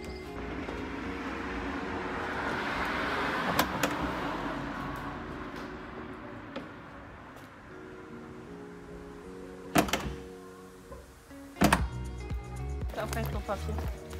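A car door slams shut and a campervan engine hums and moves off. A low rumble runs throughout, broken by two sharp thumps near the end, and a voice speaks briefly early on.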